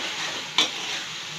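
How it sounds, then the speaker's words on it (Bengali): Tomato sautés with ground spice paste, giving a constant close sizzle, and one short spatula scrape stands out in the middle of the brief stretch, with no speech. "এই যে সাথে টমেটোটা কষিয়ে নেব"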